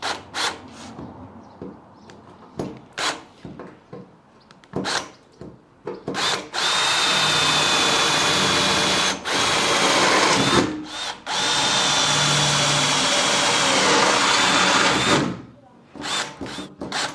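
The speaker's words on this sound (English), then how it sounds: "This drill bit has been sharpened really badly." A power drill bores through a painted metal side locker on a Ford Raptor, with a badly sharpened bit: several short bursts early on, then a long sustained whine of the drill biting into the metal, loud and close.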